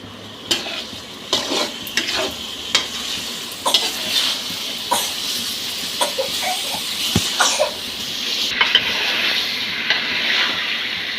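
Food fries in a pan with a soft continuous sizzle while a spoon repeatedly scrapes and knocks against the metal in irregular close strokes; no one speaks.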